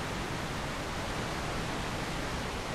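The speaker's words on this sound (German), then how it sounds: "erstmal schön im Wasser plätschern, Wasser rauschen hören, wie es plätschert" Water rushes and splashes steadily as a character wades through it in the video game Alan Wake, a dense, even wash of sound with no pauses and no voices.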